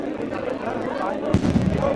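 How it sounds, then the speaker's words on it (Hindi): Firecrackers crackle at a crowded political gathering in Karnataka after a Congress election win, a steady noisy din that bursts louder near the end, with crowd chatter and voices throughout. "भैया ये पटाखे बंद करवा दो"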